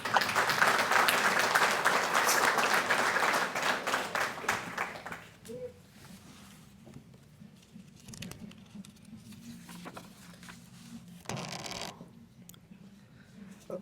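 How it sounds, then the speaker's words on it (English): An audience at a Rotary Club student-of-the-year awards evening gives a dense burst of applause for an honoree, loud for about five seconds before thinning into scattered claps and quiet room noise. "And a round of applause for Brandon."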